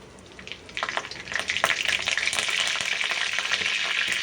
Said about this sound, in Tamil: இஞ்சி முதல்ல போட்டுக்கலாம். இஞ்சி நல்லா பொரியட்டும்.